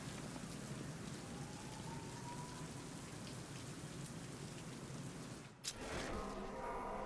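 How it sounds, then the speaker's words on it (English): Heavy rain falling in a Batman video game: a dense, constant hiss of downpour with a brief dip and burst near the end, otherwise uninterrupted. "What's with all the rain?"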